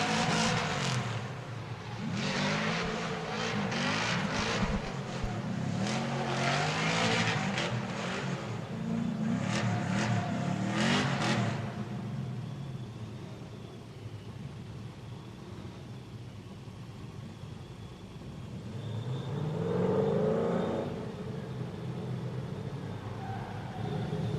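A Spec-D drift car at round 3 qualifying at Mission Raceway Park, its engine revving hard with rapid throttle stabs and tire noise, then fading off before a further, distant pass of the car. An announcer's voice comes faintly through.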